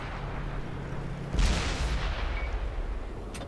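A tank cannon shell slams into the side of an enemy turret in a tank battle video game, one loud heavy boom with a rumbling tail that fades into lingering background noise.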